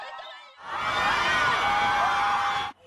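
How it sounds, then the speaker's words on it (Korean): Citizens at a rally outside the Constitutional Court burst into loud cheering and whoops, a dense crowd roar that swells in suddenly and holds for about two seconds before cutting off. "헌법 불합치 결정이 전해지자 낙태죄 폐지를 주장하던 시민들이 환호성을 터뜨립니다."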